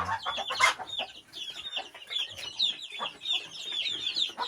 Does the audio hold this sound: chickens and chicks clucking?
yes